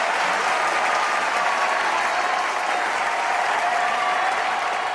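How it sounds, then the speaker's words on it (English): Loud, sustained applause from a large audience at an anniversary celebration for a performing team, a thick unbroken wall of clapping held at constant strength throughout. "Please give them a big round of applause."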